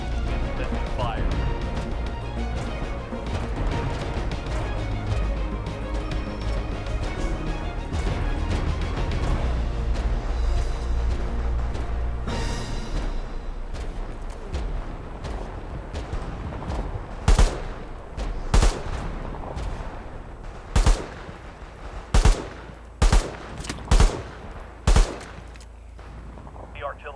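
World War 3 video game battle with rapid gunfire bursts and rumbling explosions through the first half, then sharp separate booms of incoming artillery spaced out over the remaining seconds, with voices talking in between.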